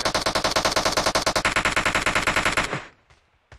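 Automatic gunfire in the shooter game PUBG Mobile: a rapid, loud burst of evenly spaced shots rattling for nearly three seconds before cutting off, followed by a couple of faint distant pops.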